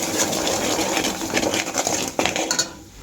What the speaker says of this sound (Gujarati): હવે આને આપણે સરસ મિક્સ કરી લઈશું.